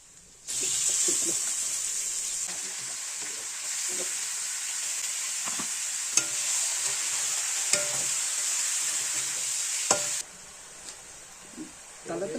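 Meat frying in a pan, a steady bright sizzle starting abruptly and holding for about ten seconds with occasional stirring clicks, then cutting off.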